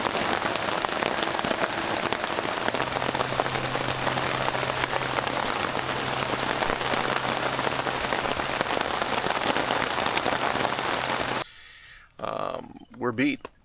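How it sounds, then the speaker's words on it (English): Steady, dense rain patters loudly on a camping tent in the Florida jungle, a constant close drumming hiss that cuts off near the end, followed by brief talk. "Well, it's raining again."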